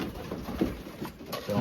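Racing pigeons, including an old blue bar bird with white flights, coo softly in a loft, a faint, low murmuring mixed with quiet background voices.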